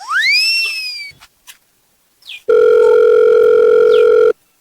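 A telephone rings loudly and steadily with a harsh electronic tone, left unanswered, after a few short chirps and a sweeping whistle-like sound.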